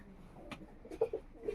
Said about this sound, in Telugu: శబ్దం చేస్తున్నారు చూసారు కదా ఇవి పావురాలు